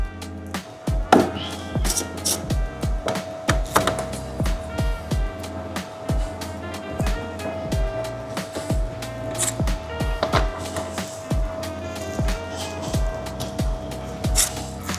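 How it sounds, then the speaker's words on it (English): A ratchet with a 10mm socket removes screws in the engine bay of a Mk8 Fiesta ST or Puma ST during a quickshift arm install, giving steady, close, rhythmic clicking in quick repeated strokes. "we need a 10mm socket, and we're going to remove these screws here"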